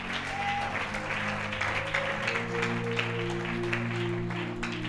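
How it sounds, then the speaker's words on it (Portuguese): Congregation applauding a pastor in a church, a steady wash of many hands clapping over sustained organ or keyboard chords, moderately loud and continuous. "a quem eu peço uma salva de palmas"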